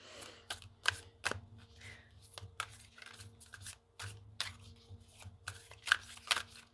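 Tarot cards shuffled close up, a series of crisp riffling bursts and card flicks at an uneven rhythm over a quiet, low room hum.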